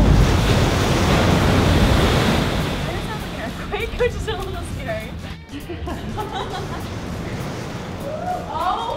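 Ocean waves surge and wash inside a sea cave at Land's End by the Sutro Baths ruins, a loud broad roar that eases after a few seconds into softer rushing water, with wind buffeting the microphone and faint voices in the background.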